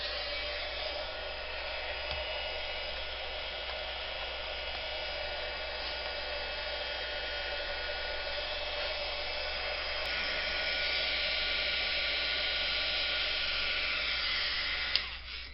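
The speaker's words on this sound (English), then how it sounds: "I'm going to turn on my heat tool first." An embossing heat gun blows a constant, even whirring rush of air for the whole stretch, close and steady with no talking.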